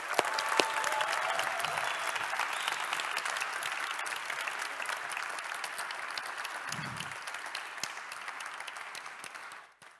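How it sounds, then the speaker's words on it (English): An audience at a Techstars accelerator event in Torino applauds startup founders with sustained, lively clapping and a few whoops, holding steady for nearly ten seconds before quickly dying away. "Big, big applause one more time for all our founders tonight."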